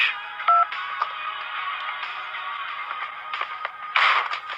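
Mobile phone dialing tones in GTA Vice City, a run of short electronic keypad beeps over a steady buzzing game background, fairly close, without talk.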